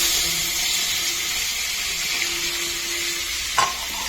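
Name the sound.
sliced plantains frying in ghee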